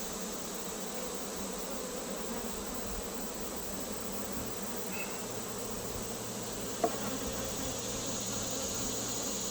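A thick, steady buzz of honey bees rises from an open hive, close and continuous, with a single faint click partway through.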